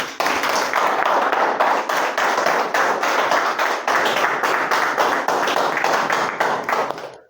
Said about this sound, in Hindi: आप अपने लिए एक बार जोरदार वाली तालियां बजा सकते हो